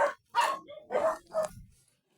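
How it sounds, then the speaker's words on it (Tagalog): Dogs bark in three or four sharp, close barks separated by short pauses. "Ang dami rin palang aso dito eh."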